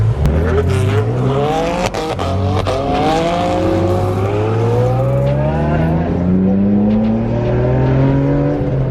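A Lamborghini Aventador's V12 engine revs loud and close, its rising harmonic whine climbing steadily with a few sharp blips, sounding alone.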